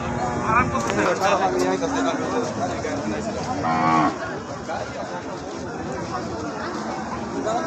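Cattle at a livestock market in Bangladesh low repeatedly, heifers and cows mooing amid a busy crowd with people chattering throughout, the loudest calls coming in the first four seconds.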